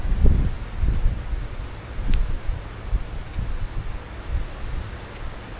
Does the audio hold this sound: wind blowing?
yes